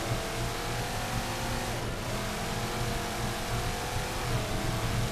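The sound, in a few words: Warthog vehicle engine driving in the Halo 4 video game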